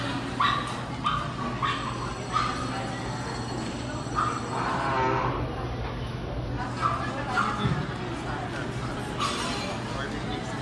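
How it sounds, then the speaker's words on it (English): Several dogs yip, whimper and bark in short bursts at a family birthday dinner in Texas, the sound moderately near and scattered beneath ongoing talk and restaurant clatter. "His dogs are freaking out there."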